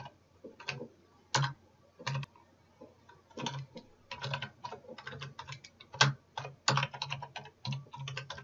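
Close keystrokes clack on a computer keyboard as code is typed, coming in irregular bursts of quick taps separated by short pauses, with no talking.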